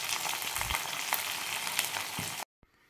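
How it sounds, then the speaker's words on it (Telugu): Onions, green chilies, coriander and curry leaves frying in oil make a loud, steady sizzle with a few pops. It cuts off abruptly just before the end. "ఆనియన్స్ కొంచెం వేగాక పచ్చిమిర్చి, కొత్తిమీర, కరివేపాకు వేసుకొని మంచిగా వేగనివ్వాలి."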